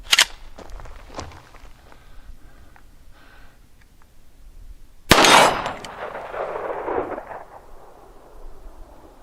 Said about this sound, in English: Let's just take a couple shots and see if I can hit it.